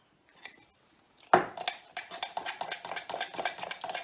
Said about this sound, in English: give it a good stir to get all the lumps out of the confectioner's sugar